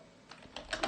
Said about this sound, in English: if you're wondering how am I typing so fast, I am not.